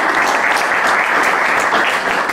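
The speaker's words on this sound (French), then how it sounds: "Je vous propose qu'on les applaudisse un grand coup." Loud, sustained applause from an audience at the close of a technology discussion, a thick, continuous roar of many hands clapping with no pause.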